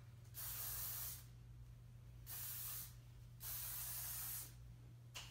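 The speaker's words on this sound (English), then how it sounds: "using my Orbe superfine hairspray" Oribe superfine hairspray sprayed onto hair in three long, close bursts, each a loud, steady hiss lasting about a second, with a low steady hum running underneath throughout.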